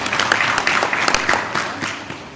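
A crowd claps in brisk, dense applause at a university spring graduation ceremony, loud and close, tapering slightly toward the end.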